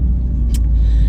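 Interior of a moving car on the way to a hardware store, a steady low engine and road rumble filling the short stretch with a brief higher hiss midway.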